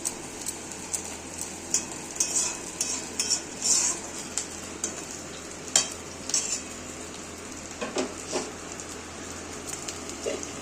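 Mixed vegetables with carrots, peas and nuts frying in a pan, with a steady low sizzle under repeated scraping and clinking stirs of a metal spoon, close and moderately loud, no talk.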